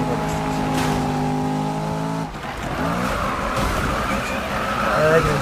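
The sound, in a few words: car engine in video game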